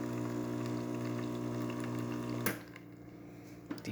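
Gaggia espresso machine with water flowing steadily from its spouts, a continuous pump hum and liquid rush that cuts off sharply partway through, leaving a quieter tail.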